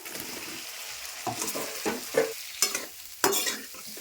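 Boiled potatoes tumble into a pan of fried spice paste for aloo dum and get stirred, giving a few separate scraping, sizzling bursts over a low steady fry, close and fairly quiet, with no talking.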